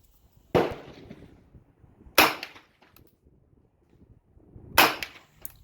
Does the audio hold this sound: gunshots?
yes